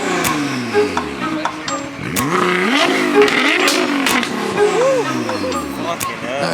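A car engine revs loudly at a cars and coffee meet, with rising and falling engine tones sweeping up and down, other vehicles audible around it, and people talking over the noise.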